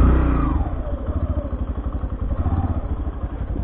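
A motorcycle rides over a rough, broken road in Kailali, Nepal, its engine throbbing close and steady while the frame clatters and jolts in a rapid rhythm. No voices are heard.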